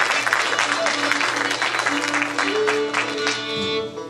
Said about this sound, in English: for those of you that would like to give me a large round of applause